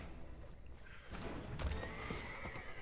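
Horse neigh sound effect from the Magic Arena card game: a soft lead-in, then a loud whinny with a rumbling thud and hoof-like clops, close and clear, without speech.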